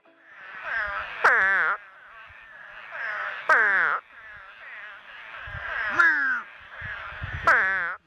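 Spadefoot toads give their mating call, a series of loud, nasal, bleating wails that repeat roughly every two to three seconds, each ending in a warbling downward slide, close and alone.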